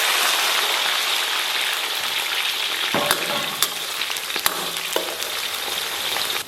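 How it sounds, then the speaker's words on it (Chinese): Scallion, ginger and garlic hit hot oil in a wok with a strong, continuous sizzle. A metal spatula clacks a few times as the aromatics are stirred. "油热以后，咱们把葱姜蒜给它下里边"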